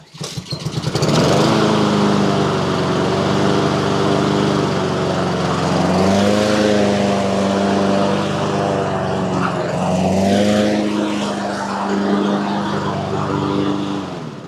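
A Husqvarna AWD riding lawn mower engine runs close and loud after a brief start, holding a steady drone with two slight dips in pitch as it is throttled.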